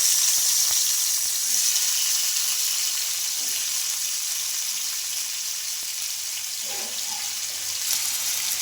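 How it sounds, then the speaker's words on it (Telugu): Tomato pieces fry in oil with a steady hissing sizzle throughout, broken by a few soft knocks and stirring sounds near the end. "ఇంకా ఆయిల్లో ఇప్పుడు టమాటా ముక్కలు అయితే వేసుకోవాలి"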